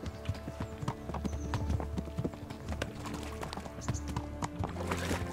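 Horse hooves clip-clop steadily in the medieval video game Kingdom Come: Deliverance, a close, rhythmic trot running the whole stretch over a busy game soundscape with music.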